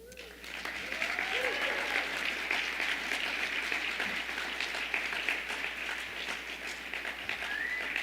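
Sustained audience applause fills an awards ceremony at an agricultural conference, steady broadband clapping from a large room building in after a brief start and continuing throughout, with a few faint whoops or voices mixed in.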